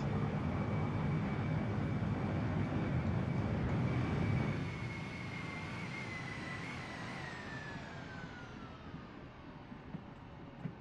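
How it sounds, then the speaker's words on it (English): A flight-simulator aircraft braking to a stop after landing, a steady loud rumble of engines and wheels that drops in level partway through while a falling whine trails off as it slows. "that's me just trying to get this aircraft stopped"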